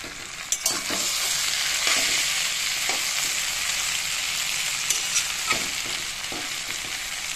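Potato, eggplant and onion frying separately in hot oil for a spicy Bengali mourola fish chorchori, a steady close sizzle with a few sharp spatula scrapes and stirs scattered through, no talking.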